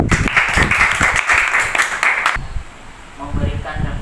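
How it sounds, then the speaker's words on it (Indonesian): A classroom of students claps together in a dense burst of applause lasting a couple of seconds, then stops abruptly as a voice begins talking. "Kita tepuk tangan dulu."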